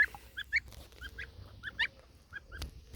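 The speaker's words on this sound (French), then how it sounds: "Donc voilà le petit oiseau." A small gosling calls in a series of short, high, chirping peeps, repeated unevenly and fairly close, with quiet low background rumble and no talk.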